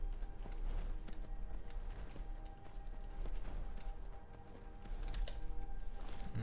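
Horse hooves clip-clop steadily in The Elder Scrolls V: Skyrim, a continuous rhythmic trot of game footsteps with no talking.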